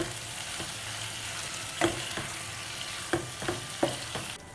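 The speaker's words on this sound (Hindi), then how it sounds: "सॉल्ट ऐड करना है एज पर टेस्ट और मीडियम हीट पर स्टर करते रहेंगे।" Tomato chutney with salt stirred in a pan over medium heat, a steady low sizzle under several distinct scraping stir strokes at irregular intervals, close and moderately loud, with no talking.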